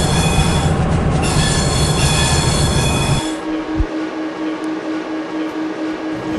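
A Virgin Pendolino 390 train in a train simulator game rumbles loudly with steady rail noise and wheel squeal, then drops to a quieter hum with a single clunk as it slows into a station.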